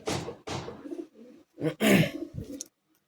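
Madrasi high-flying pigeons in a loft give a few soft, low cooing bursts, close by, in uneven clusters with brief pauses, ending in near quiet.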